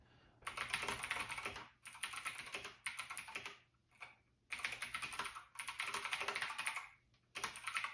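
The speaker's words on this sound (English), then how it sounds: "I can tell this is a whole lot louder than my old keyboard." Loud, clicky typing on a Keychron C2 mechanical keyboard with blue switches, in fast bursts of several seconds separated by brief pauses, close to the listener.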